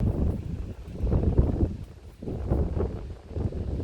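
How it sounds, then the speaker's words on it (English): Wind buffeting a tent and Jeep at a Vancouver Island campsite, a steady low rumbling roar that swells and eases in gusts, fairly close, with no voices. "It's a bit windy, even though at the moment it's calm"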